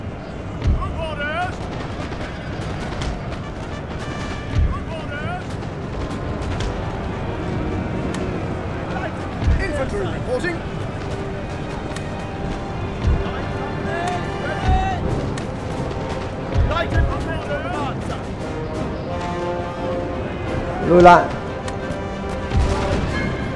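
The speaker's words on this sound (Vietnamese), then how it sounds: "pháo nó bắn được rồi cả" Artillery and gunfire in a Napoleon Total War battle, a dense stream of booms and shots with a few louder blasts near the end, running under continuous speech.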